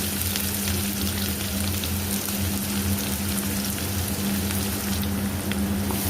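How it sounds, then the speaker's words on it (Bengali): Chopped onion fries in a pan after garlic for a Bombay duck fish curry, giving a dense, steady sizzle that stays loud and close throughout. "তারপর দিয়ে দিলাম পেঁয়াজের কুচিটা।"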